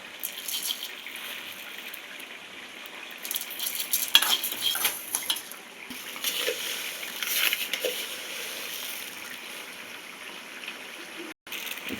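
Coriander seeds being stirred in a pan while making chicken pickle, a steady scraping, rustling stir with faint sizzle, close and continuous for the whole stretch with no talk.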